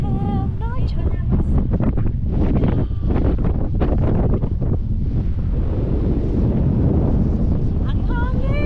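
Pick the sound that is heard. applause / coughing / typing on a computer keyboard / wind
wind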